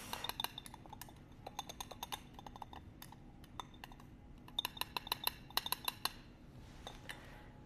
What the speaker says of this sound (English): I'm just whisking all those 3 ingredients together